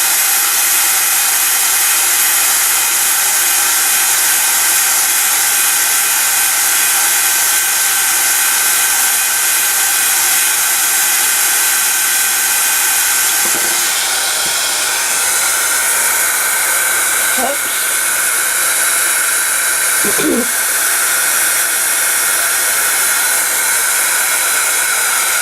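Heat gun blowing hot air onto shrink plastic for embossing, a loud steady whooshing hum running unbroken close up, with a few faint knocks near the end.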